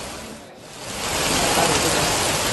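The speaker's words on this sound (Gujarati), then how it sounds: "આસપાસના વિસ્તારમાં કમોસમી વરસાદ જોવા મળી રહ્યો છે।" Unseasonal winter rain mixed with hail pours down as a loud, steady wash of noise, dipping briefly before swelling to a constant heavy roar.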